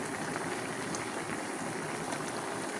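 Chayote simmering in a pot of broth, a steady close bubbling and hissing boil that holds evenly throughout with no talk.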